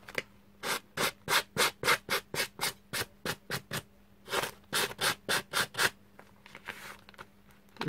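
Rhythmic back-and-forth strokes of an abrasive file rubbing against paper, about twenty crisp scratchy passes in steady bursts with a short pause partway, close and alone.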